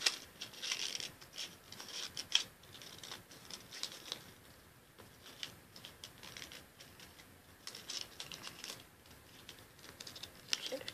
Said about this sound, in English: Tape on that little piece.